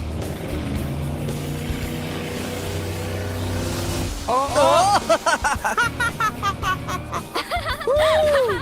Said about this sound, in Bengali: ও ওরা তো জলের মধ্যেই ড্রিফট করছে, পুরো ডোনাটের মতো লাগছে